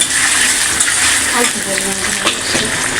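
Ginger and garlic paste hits hot oil in a pan while cooking an oshta chorchori, giving a close, steady, bright sizzle that crackles throughout.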